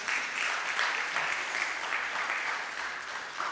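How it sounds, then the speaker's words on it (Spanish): A church congregation applauds during a morning service, a dense sustained round of clapping from many hands, steady and fairly loud throughout with no voices standing out. "Denle un aplauso al Señor en esta mañana."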